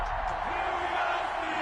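Stadium crowd roaring steadily in an NFL video game before a Washington Football Team vs. Pittsburgh Steelers kickoff, a dense, continuous wash of cheering with no breaks.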